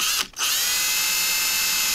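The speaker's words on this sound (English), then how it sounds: "And drill out the corners." A power drill whirs steadily as it drills out the corners of an engine cowl cutout on a model aircraft, with one brief pause early on before the motor runs on.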